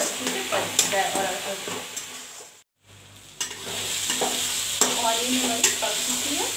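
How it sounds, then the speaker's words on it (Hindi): Onion and tomato puree stirred and roasted in a pan for a dry potato capsicum dish, a steady sizzle with repeated spoon scrapes and knocks, briefly dropping out midway. "अब हम इसमें टोमेटो प्यूरी डालेंगे, इसको 5 मिनट के लिए भूनेंगे"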